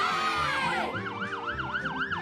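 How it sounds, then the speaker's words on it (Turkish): Toy truck siren wailing in a fast repeating up-and-down electronic sweep, moderately loud and close, with no talk over it. "Bu bir siren. Sirenin bir hoparlörü ve yanıp sönen ışıkları var."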